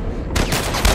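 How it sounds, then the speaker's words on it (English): A sharp gunshot bursts out partway through a brief moment in the video game The Last of Us Part 1, loud and close, with a rumbling tail after a quiet start. "I shot him in the face"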